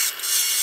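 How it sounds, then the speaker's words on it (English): One short, close rasping stroke of a file across the freshly cut end of a threaded steel rod. "Thereafter, we smoothen up the cut surface."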